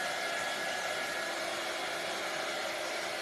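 A hair dryer blows on freshly applied craft paint, a steady, even whooshing roar held at constant level throughout with no voices.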